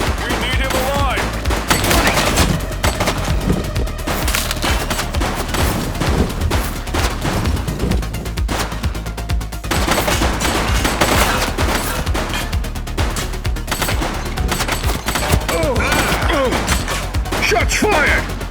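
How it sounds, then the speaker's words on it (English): Gunfire in The Precinct during a police shootout with a gang, dense bursts of shots and rapid machine-gun fire crackling loudly throughout, with voices shouting over it. "Shots fired!"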